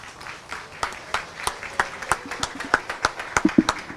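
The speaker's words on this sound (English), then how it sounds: "Let's give another big round of applause." An audience at a heifer show claps in a steady rhythm, distinct sharp claps ringing out over a light background, moderately loud and continuous.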